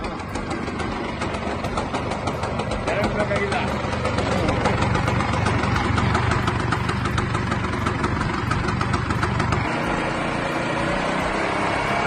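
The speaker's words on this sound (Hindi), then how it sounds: "इस बंदे ने स्कूटर से ही कंस्ट्रक्शन लिफ्ट क्रेन बना दी है" A scooter engine drives a homemade construction lift crane, a steady mid-pitched motor drone with a faint rhythmic ticking that runs continuously throughout.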